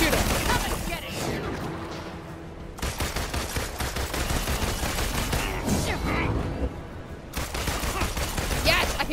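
Bursts of gunfire in an Avengers video game, with dense rattling volleys separated by brief lulls, mixed with game voices and effects at a moderate level.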